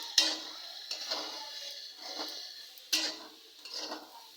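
Utensil scraping and knocking in a pan as fried vegetables are stirred with salt and turmeric for a vegetarian curry, several distinct clacks and scrapes at irregular intervals, close and fairly quiet.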